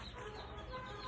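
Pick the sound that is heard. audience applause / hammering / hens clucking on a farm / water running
hens clucking on a farm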